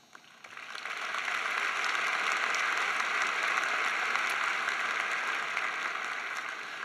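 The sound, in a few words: audience applause at commencement ceremony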